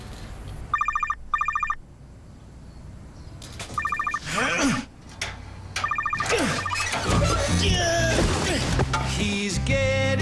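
Telephone ringing in a TV advert for home phone service, with several bursts of electronic bell ringing early on, followed by busy music and sound effects.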